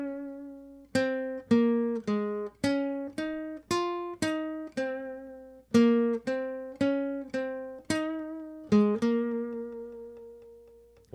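Guitar picking a melody from Suikoden 2, clean single notes plucked one by one in a steady, unhurried rhythm, close and alone, the last note left ringing.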